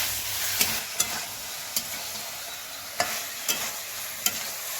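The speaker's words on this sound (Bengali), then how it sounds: "দেশি মুরগি তো ভালো করে একটু কষিয়ে নেবো" Desi chicken pieces fry in spices with a continuous hissing sizzle, punctuated by about six crisp scraping strokes of a spatula stirring the pan.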